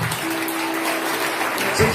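Applause from a congregation at a religious talk, a steady wash of many hands clapping at a moderate, even level throughout the short stretch.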